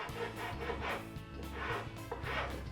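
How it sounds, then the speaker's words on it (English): A metal file is drawn along a wooden edge in repeated rasping strokes, each stroke a scratchy pulse at a steady rhythm, close and fairly quiet. "going kind of more along the edge with the file as opposed to straight in"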